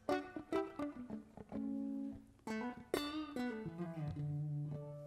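Dry direct-input electric guitar with no amp, clean plucked notes and short melodic phrases ringing out one after another, close and alone.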